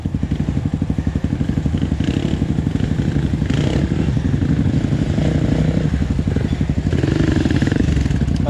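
Honda CRF250F dirt bike engine revving close up, a loud, rapid, steady thumping exhaust that rises and falls as the throttle is worked, with little else audible.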